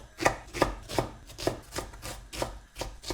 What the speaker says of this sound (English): So I'm going to use fat 8 to 10 garlic cloves, good fat. And what I'm going to do is I'm going to chop all of this up finely.